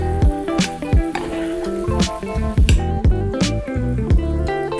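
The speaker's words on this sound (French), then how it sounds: "vous allez laisser réduire en le tournant de temps en temps pour qu'il s'imprègne bien de sauce" Teriyaki sauce reduces around salmon fillets in a hot pan, giving a steady loud sizzle with bubbling, popping bursts and occasional clatter as the fish is turned.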